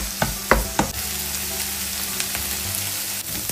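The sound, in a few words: onion and peppers sautéing in a pan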